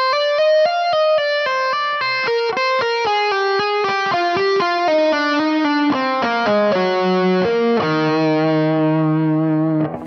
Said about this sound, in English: So that last section there sounds like this.